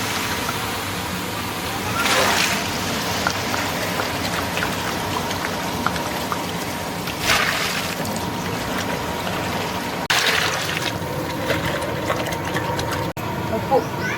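Water is poured into a large pot of curry being cooked for about a hundred people, making a loud, continuous rushing hiss with a few sharp clinks as people talk nearby.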